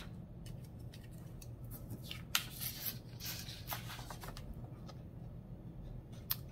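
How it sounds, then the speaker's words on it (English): Scissors cut through paper while crafting an ornament, quiet crisp snipping and rustling at irregular intervals over a steady low background hum. "What I want you to do is take your scissors"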